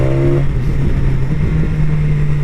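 A 2016 BMW S1000XR motorcycle engine pulls hard under acceleration, a loud, close, sustained drone with a steady pitch and heavy wind rush, and no speech.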